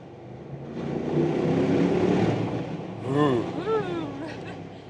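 An Audi RS Q8 in RS mode, held a gear lower, accelerates through a tunnel with a loud, echoing engine roar for several seconds, then a voice talks over the fading drone.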